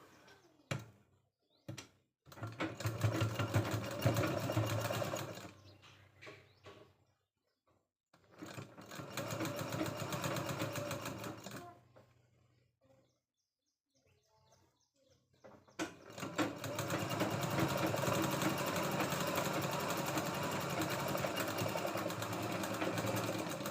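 A sewing machine stitches a katori blouse in three separate runs, each a sustained, even whir broken by silent pauses. A few short taps come early on, and the final run is the longest.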